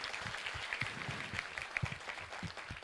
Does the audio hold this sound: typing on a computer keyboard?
no